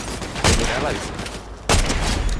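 Two loud gunshots ring out in the video game Fortnite, spaced about a second apart, each a sharp close blast with a trailing rumble, while a player speaks briefly between them.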